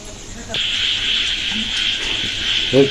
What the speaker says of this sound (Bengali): তেলে এবার বড়াগুলো ছেড়ে দেবো তেলে